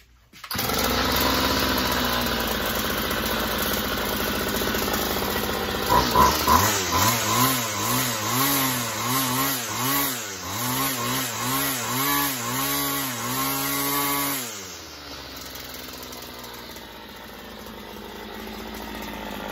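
A Homelite string trimmer with its choke on sputters to life after a few pulls, then runs loud and close with a revving, pulsing engine note before settling to a steadier idle.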